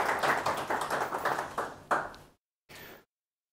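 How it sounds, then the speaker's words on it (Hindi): An audience at a Bible conference in Nepal claps to welcome a speaker, a dense burst of hand claps that thins and fades, followed by a short final patter after a brief silence. "ताली बजा के हम परमेश्वर के दास का स्वागत करेंगे"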